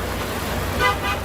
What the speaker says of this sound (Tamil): சீசனுங்கிறதுனால செம்ம டிராஃபிக்காக இருக்குது.